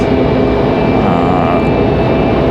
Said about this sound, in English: If they do decide to shut the runway down, this will be the last departure.